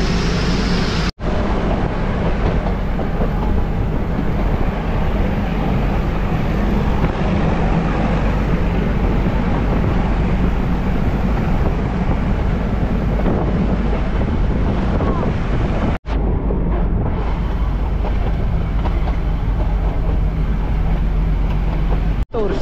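Heavy wind roars across the microphone aboard the Mettupalayam–Ooty steam toy train, a loud, unbroken rushing rumble with a low running drone underneath and only brief dropouts.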